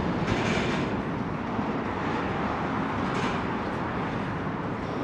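A subway train rumbles over the Manhattan Bridge in New York, a steady, loud, broadband roar with rattling wheel noise that holds unbroken for the whole stretch, without talk.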